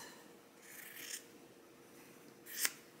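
Scissors cut quilt binding fabric in two quick, crisp snips about a second and a half apart, close and fairly faint against a quiet room.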